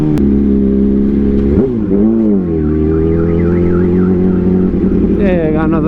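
A car alarm blares up close, a loud continuous electronic tone that warbles and sweeps through shifting pitch patterns over a steady engine-like drone.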